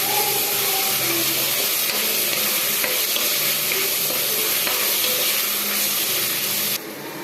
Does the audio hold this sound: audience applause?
no